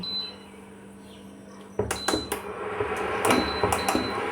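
An induction cooktop switched on while making Bengali spongy rasgulla from powdered milk: a quiet electronic hum first, then a run of sharp beeps and clicks from the panel, close and clear, with no talking.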